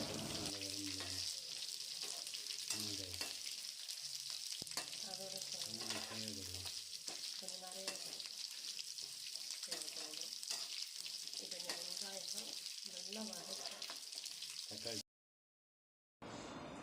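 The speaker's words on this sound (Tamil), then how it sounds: "இந்த வெங்காயம்லாம் நல்லா வதங்கி வரட்டும்" Large onions sautéing in a pan, giving a steady, loud sizzle and frying crackle throughout, with a soft stirring scrape now and then, before a short silence near the end.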